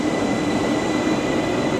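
An old Oslo train from around the 1960s or 70s rolls past close by, giving a steady, loud rumbling wash of wheels and carriages with faint high whines above, continuous for the whole stretch without any voices.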